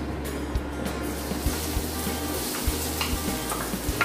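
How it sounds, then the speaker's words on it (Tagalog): Garlic sizzles in hot oil, a steady crackling fry broken by periodic stirring clanks in the pan, close up with no talking. "Dito, lagay na po natin yung bawang."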